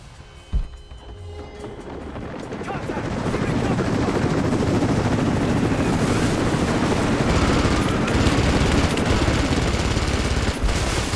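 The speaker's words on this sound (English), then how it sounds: "we're gonna have to fight the helicopter now" Helicopter attack in the video game Rise of the Tomb Raider: a sharp blast, then sustained loud machine-gun fire with a helicopter rotor droning underneath, building up and continuing relentlessly for about ten seconds.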